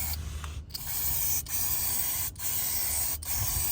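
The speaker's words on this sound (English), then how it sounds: "I took this electrical silicone lubricant and just coated this area" Electrical silicone lubricant sprays from an aerosol can onto the underside of a Tesla Model 3 in four steady hissing bursts, each separated by a short pause, heard up close.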